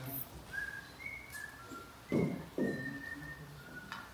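A man whistles a faint, thin tune of short held notes, heard fairly far off against a quiet background with a couple of soft thuds.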